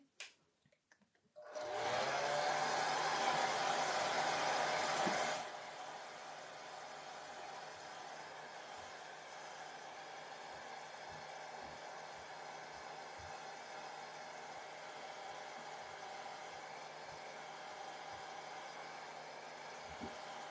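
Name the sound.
hair dryer running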